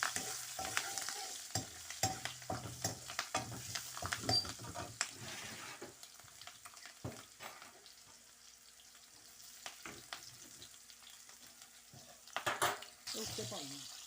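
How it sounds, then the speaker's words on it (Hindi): Spices crackle and sizzle in hot oil as a tempering for moong dal with green and red chillies, with sharp pops and clinks of a utensil stirring, close and lively, fading to a quieter hiss. "ये मैंने ना दाल बनाई है, उसको मैं तड़का लगाऊंगी"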